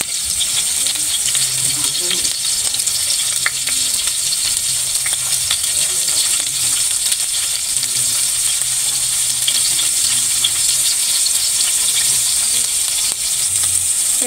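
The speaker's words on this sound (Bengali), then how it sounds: "তো এই তো আমি এখন মাছগুলো দিয়ে দিতেছি।" Fish sizzles and spatters steadily in hot oil in a pan, a continuous close crackling hiss with occasional small pops and no talk.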